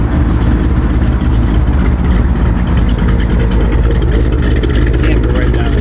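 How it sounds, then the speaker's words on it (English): The exhaust of a 1955 Chevy hot rod engine gives a loud, deep, continuous rumble at a steady idle, close and heavy in the low end. "And back here, it's got a nice exhaust."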